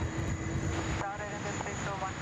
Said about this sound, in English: we enjoy this Qantas A330 just rolling into the international terminal